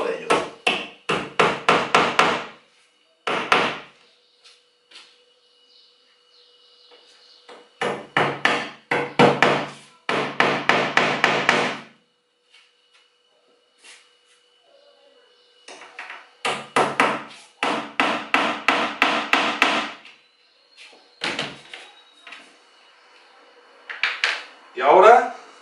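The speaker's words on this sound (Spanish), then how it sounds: "en estos tres puntos vamos a clavar una punta en cada uno de ellos." Nails hammered into a wooden board at three points, heard as several loud bursts of quick, evenly spaced blows separated by pauses, close and clear with quiet gaps between.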